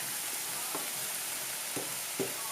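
Prawns sizzling in a pan for paella, a steady close frying hiss with a few soft stirring or turning knocks.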